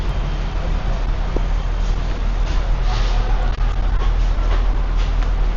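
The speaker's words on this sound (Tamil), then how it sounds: "ஏர்போர்ட் போகிறதுக்காக ரயில்வே ஸ்டேஷன் வந்திருக்கோம், டுகு ஸ்டேஷன்" Loud, continuous rumble of a train running on rails at a railway station in Yogyakarta, Indonesia, a heavy steady roar with faint muffled voices beneath it.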